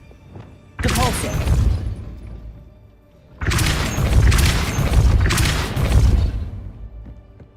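Depulso spell impacts in Hogwarts Legacy, two loud booming blasts with crashing, shattering debris, the second burst longer and rolling, heard close over game sound.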